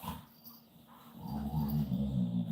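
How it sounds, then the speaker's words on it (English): Dogs indoors whimpering with low growls and restless noises, close by and moderately loud, no speech over them. "Let me get these dogs under control."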